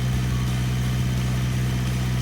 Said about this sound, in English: SYMRA's engine was running nicely while idling and back to normal RPMs